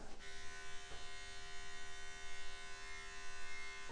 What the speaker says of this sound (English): So pubic area, I usually trim. I use either a 9 or a 6 millimeter